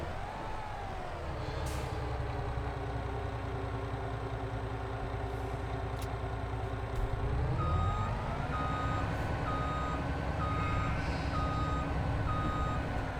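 Truck carrying a full load of coffee beans in Farming Simulator 22, engine idling and rumbling steadily while a reversing alarm beeps in a regular repeating pattern, with a brief hiss of brakes.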